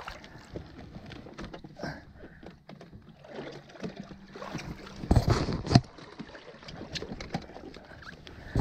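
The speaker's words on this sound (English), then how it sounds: "I'm using the trolling motor" Low steady hum of a trolling motor pushing an inflatable pontoon boat offshore, mixed with water lapping and splashing against the hull and some wind noise, with no clear talk.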